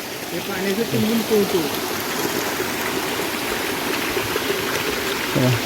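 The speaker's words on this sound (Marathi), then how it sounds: "स्वच्छ पाणी एकदम पिण्याचं पाणी झरे आहेत भरपूर याला" Clear spring water runs in a village stream, making a loud, steady rushing and bubbling flow close by, with a voice speaking over the water.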